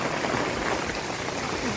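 Heavy rain pours down on a village street beside a temple, a dense, loud, unbroken hiss of falling water and runoff.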